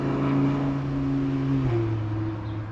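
A Lamborghini supercar passes through a quiet residential neighborhood, its engine a steady loud drone that shifts pitch partway through as it goes by, with no talk over it.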